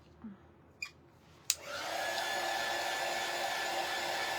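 Hair dryer blowing on a vintage shutter, starting after a few soft knocks and a click, then a steady, close whooshing drone that holds at even loudness.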